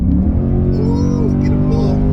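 Chrysler 300C SRT8 car accelerating with a steady, loud engine rumble and rising drone from inside the cabin, with a steering wheel that shakes under acceleration; a voice talks over it.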